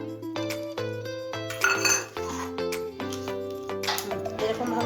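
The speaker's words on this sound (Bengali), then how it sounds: "এখানে এরপর সমস্ত কিছু দিয়ে আমি মেখে নেব।" Metal utensils clink and scrape against a steel bowl or pan as paneer is mixed by hand with yogurt, tomato and spices, a run of sharp ringing knocks close by and no talk.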